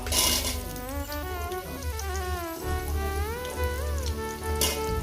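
Potatoes are tipped into a hot pan for a poppy-seed curry with ridge gourd and drumsticks, sizzling and crackling steadily like light rain, while a melodic tonal line plays over the frying.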